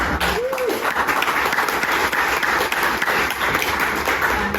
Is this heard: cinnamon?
no